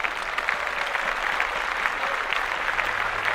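Podcast hosts cue a burst of applause, a continuous even patter of many hands clapping at moderate level with no voices over it.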